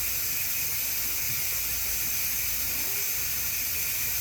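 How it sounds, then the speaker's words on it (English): A large pot of peach jalapeno jam mixture boils steadily, giving a constant loud hiss and rolling bubble noise with no talk over it. "So we are just going to let that boil for just a second."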